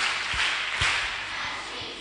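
Children at a Day of the African Child roadshow clap for themselves: a few loose, scattered claps with soft thuds over a busy, noisy room.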